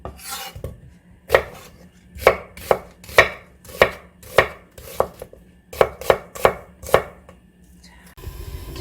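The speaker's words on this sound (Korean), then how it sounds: "청양고추 두 개를 얘도 이렇게 채 썰듯이 좀 썰어주고 양파 반 개도 좀 썰어주고요" A knife chops Cheongyang chili peppers and half an onion on a cutting board, a run of about a dozen crisp, close chopping strokes in uneven rhythm, with a few brief pauses and no voice.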